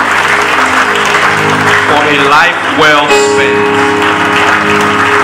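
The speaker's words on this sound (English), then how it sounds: "put those hands together to celebrate the glory of God" A church congregation claps along under singing and sustained music at a service of songs, with steady hand-clapping mixed beneath a voice and organ-like tones, fairly loud and close.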